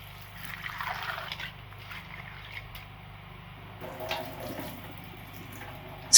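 Cracked palm kernels swished and rinsed in a bowl of water, soft trickling and sloshing at close range, mostly gentle with a brief louder splash near the end.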